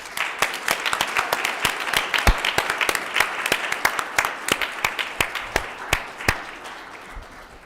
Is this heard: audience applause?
yes